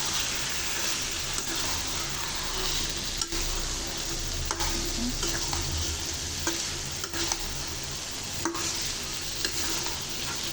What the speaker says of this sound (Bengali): এখন আমি ডালটা দিয়ে দেব। ভালোভাবে মিশিয়ে নেব।